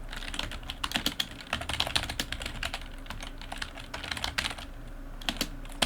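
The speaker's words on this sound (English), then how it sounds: "And as I'm typing this" Rapid computer keyboard typing runs on continuously, with dense irregular key clicks and occasional louder taps, close and steady, and no voices.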